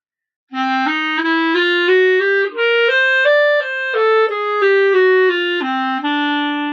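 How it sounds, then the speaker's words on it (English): A solo clarinet plays a smooth, steady bluesy phrase of sustained notes stepping up and then back down, clear and close with no talking. "Here's the blues lick, sounds like this."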